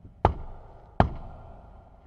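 Two sharp knocks on a wooden door, spaced about a second apart, sound close and distinct in an otherwise quiet room.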